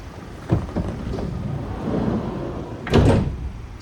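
The sliding side door of a Ford Transit 2.0 EcoBlue Leader L3 H2 panel van rumbles along its track with a soft thud as it starts and a heavier clunk as it latches a few seconds later, close by.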